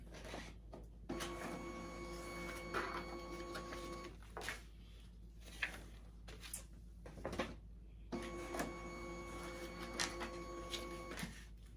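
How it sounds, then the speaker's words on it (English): A Plustek Z300 photo scanner feeds and scans photos at 300 dpi in two long mechanical passes, each a whirring motor drone with steady tones, separated by quieter clicks and handling noises, recorded close with no talk. "Now this scanner is scanning right now in average mode, so 300 dpi, dots per inch"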